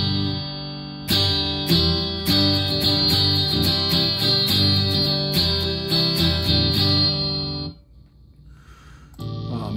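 Electric guitar through a Mesa Boogie amp model with a driven, crunchy tone, a riff of repeated strummed chords with sharp attacks, cutting off briefly before another stab.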